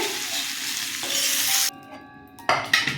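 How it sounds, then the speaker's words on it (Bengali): Pieces of ash gourd sizzle in hot oil in a pan, with a steady hiss interrupted by brief stirring and scraping, then a short pause before the frying picks up again. "চাল কুমড়োটা ভাজা হয়ে গেছে, নামিয়ে নিচ্ছি।"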